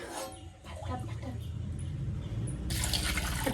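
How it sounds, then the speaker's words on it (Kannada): Water is poured into a cooking pot for rasam, a steady, quiet pouring rush that swells in the last second. "ಸೊ ರಸಮಿಗೆ ನೀರು ಎಷ್ಟು ಬೇಕಷ್ಟು ಹಾಕಿ"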